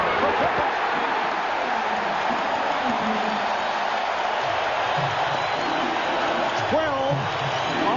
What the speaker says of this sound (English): Ron Harper bringing the crowd to its feet